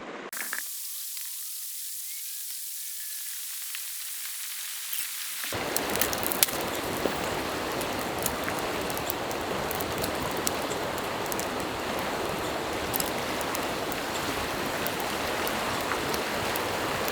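A river stream flowing in the High Uinta Mountains of Utah, a steady broad rushing wash that starts after near silence and then continues evenly and fairly close throughout.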